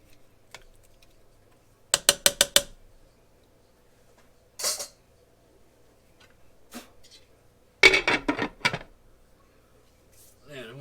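Slow cooker lid being handled and set in place, giving a few sharp clattering clinks in quick bursts separated by quiet gaps, close by with no talk.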